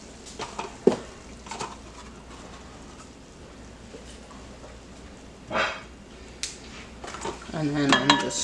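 A spoon scrapes and clinks against a bowl while pumpkin dessert mix is stirred with milk, with sparse taps and scrapes that grow busier toward the end, and a faint dog bark in the background.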